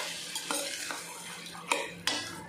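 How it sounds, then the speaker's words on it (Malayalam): Chicken green masala being stirred in a pan, a soft sizzle under scraping spoon strokes and a few sharp metallic clinks against the pan. "മിക്സ് നോക്കുക."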